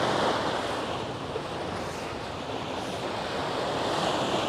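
Sea waves wash steadily against a breakwater on the Bangsaen shore, a broad continuous surf roar with some wind noise over the microphone, no voices.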